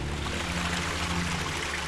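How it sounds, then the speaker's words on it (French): Water trickles and flows steadily through an abandoned quarry, a soft, continuous babbling stream sound with a faint low rumble beneath and no voices. "Je vais aller voir ce que c'est l'eau que j'entends couler là"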